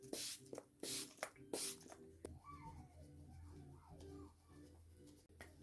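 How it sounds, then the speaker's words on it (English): Several short bursts of makeup setting spray misted onto a face, each a quick airy hiss, close and fairly loud, followed by quieter rustling and faint background sound. "I am going to be setting my face for this because this is actually a setting spray as well"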